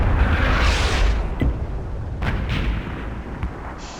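Artillery fires in a tank battle video game with a loud, heavy boom, followed by a rumbling decay and a few fainter distant bangs.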